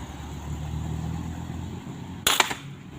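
A speargun fired in a test shot outdoors near a forest, one sharp, loud crack with a brief rattle after it, cutting through a steady low background hum.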